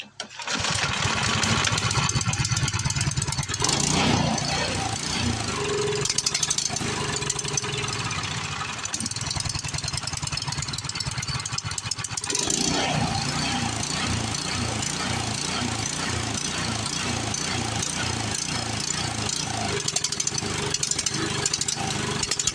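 A surging snowblower engine, running lean from a carburetor fault, is pull-started with the choke set and throttle wide open. It catches after a sharp start and runs loud and close, later settling into a rhythmic, pulsing surge.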